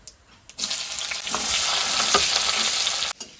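Onions dropped into the hot oil left from frying chicken, with cumin and bay leaves, hiss in a loud, continuous close-up sizzle that starts suddenly and stops abruptly, with no talking.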